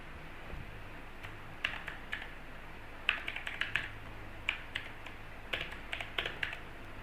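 Someone typing code on a computer keyboard, with scattered clusters of crisp, close keystrokes broken by short pauses over a faint background hum, and no speech.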